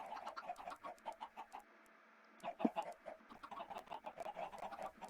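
Chickens clucking in the Minecraft video game, a busy run of short pecking clucks that pauses briefly and then resumes, fairly quiet and close.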